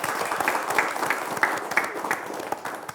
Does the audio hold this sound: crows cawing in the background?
no